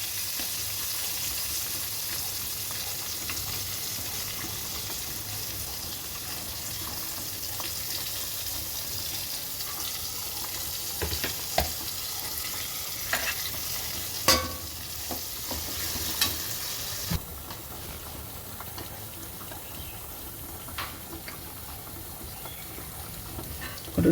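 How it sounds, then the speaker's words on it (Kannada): Onion, curry leaves and dry chilli sizzle steadily in hot oil for sambar, a close, continuous fry with occasional stirring clicks and no talk. "ಕರಿಬೇವು ಮತ್ತು ಇದರಲ್ಲೇ ಒಂದು ಸ್ವಲ್ಪ ಒಣಮೆಣಸಿನಕಾಯಿ, ಅದಕ್ಕೆ ಈರುಳ್ಳಿ ಹಾಕ್ತಾಯಿದ್ದೀನಿ."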